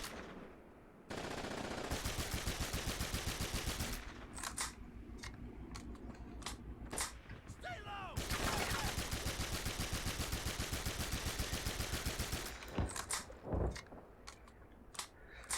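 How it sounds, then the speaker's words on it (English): German machine gun fire in the World War II video game Big Red One comes as long, rapid bursts of loud rattling gunfire mixed with scattered single shots and sharp impacts. "Damn German machine guns."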